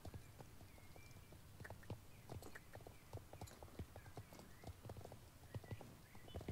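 Steady clip-clop of horse hooves at a walking pace in the game Star Stable, with a faint neigh, over low ambient game background; continuous and fairly quiet.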